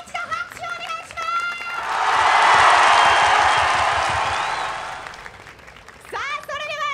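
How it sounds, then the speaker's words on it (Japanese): An audience at a game show event in Tokyo breaks into applause, the clapping swelling to a loud, full crowd roar and then fading away. A host speaks before and after it. "会場の皆さん、今一度拍手をお願いします"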